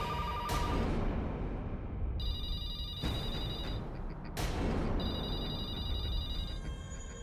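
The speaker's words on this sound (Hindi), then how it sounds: "फोन मत उठाना, कोई फोन मत उठाना।" A telephone rings in a tense horror drama scene, three loud repeated electronic rings with short pauses between them, alone without voices.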